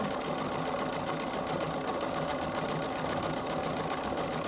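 Sewing machine stitching a quilt, running fast and steady with a continuous mechanical whir and rapid needle chatter throughout, close and even in loudness.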